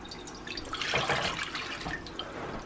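Liquid sauce mixture pours into a hot wok on medium-high heat, a steady splashing, sizzling wash that swells midway and holds close and fairly loud for a couple of seconds.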